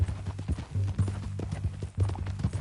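Horse hooves clip-clop steadily at a walk in the Red Dead Redemption 2 open world, a close, even rhythm of hoofbeats over a low background hum.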